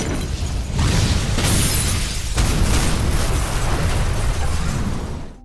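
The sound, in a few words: explosion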